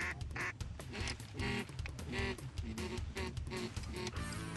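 Gadwall ducks calling outdoors on a hunt, with a chorus of repeated nasal quacks in a steady, overlapping chatter that sounds moderately distant.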